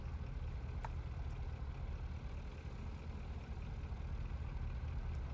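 A truck engine fitted with a sport muffler and dump exhaust in the driving game BeamNG Drive, a steady low rumbling drone that idles on without a break, with no talk over it.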